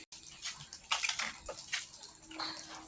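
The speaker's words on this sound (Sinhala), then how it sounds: "ඊළඟට මම මේකේ වතුර පුරවල තියාගත්තා." Water running into a container, a quiet splashing trickle with uneven bursts and sloshes, faint and close by, with no voices.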